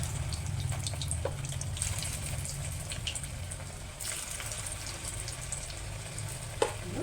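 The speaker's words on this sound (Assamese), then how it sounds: "তেল গৰম হ'ল এতিয়া মই ইয়াতে বৰকেইটা এটা দি দিম" Papaya fritters fry in hot mustard oil, giving a continuous close bubbling sizzle with occasional crackles and one sharp knock near the end.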